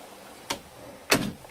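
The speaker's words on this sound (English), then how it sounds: "Right, I'm just going to shut the door." An old door in a historic hall pushed shut, a soft first knock followed by a louder thud of it closing, close by in a quiet room.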